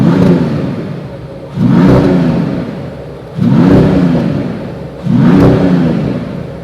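Hybrid six-cylinder engine of a 2025 Mercedes E53 AMG revving loudly in four repeated surges, each rising sharply then fading as the car accelerates, with a smooth, mid-pitched growl and no talking.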